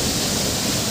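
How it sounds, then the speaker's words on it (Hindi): Rainwater from the forest rushing into a tunnel during a storm, a steady, dense roar of flowing water that fills the whole short stretch without a break. "जंगल से बारिश का जो पानी है वो जब सुरंग में आता है"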